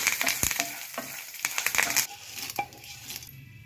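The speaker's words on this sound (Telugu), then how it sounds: "వేగిన తర్వాత ఎండుమిర్చిని అదేవిధంగా కరివేపాకును వేసి వేయించుకోవాలి" Dried red chillies and curry leaves crackle and spatter in hot oil in a pan, with close spatula scrapes and taps over a dense sizzle that thins out toward the end.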